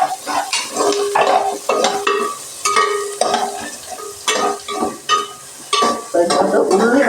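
Onions sizzling in hot oil in a pan, stirred repeatedly with a utensil that scrapes and clinks against the metal in short bursts, close and fairly loud.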